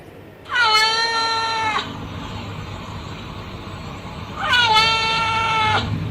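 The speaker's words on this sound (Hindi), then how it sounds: "बिल्ली से भी सुन लो।" Two long, drawn-out cat meows ring out loud and close, separated by a few seconds of low background hum.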